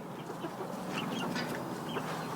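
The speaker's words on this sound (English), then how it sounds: "I got 3 death layer roosters and 3 death layer hens" Death Layer roosters and hens clucking in a farm setting, a steady chorus of overlapping clucks and short calls against constant background noise, moderately close.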